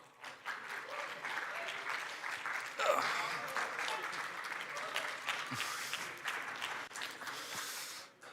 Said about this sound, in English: Big round of applause for Danny, Daria, and Avril.